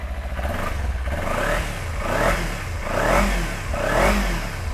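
A second-hand Yamaha motorcycle engine revs up close in four rising-and-falling blips over a steady idle, loud and without talking.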